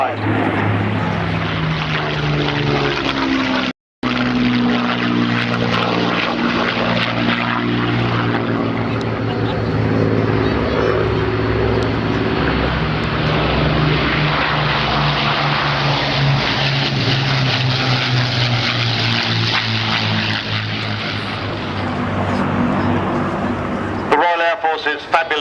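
A propeller-driven WWII combat aircraft roars past at an RAF Cosford air show, a loud sustained engine drone with shifting pitch as it passes, while a commentator speaks over the public address throughout.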